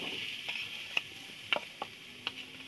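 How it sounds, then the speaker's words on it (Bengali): Grated coconut is stirred with sugarcane jaggery in a pan, a soft continuous sizzle broken by a few sharp scraping taps of the spoon against the pan. "দেখো এইভাবে নাড়তে থাকবো নারকেলটা।"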